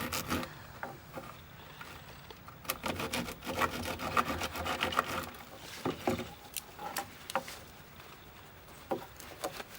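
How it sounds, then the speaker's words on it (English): A hand saw cuts wood on a decking surface in quiet, irregular rasping strokes, close by with faint scraping and tapping between strokes and no talking. "Making sure I don't saw them through my decking"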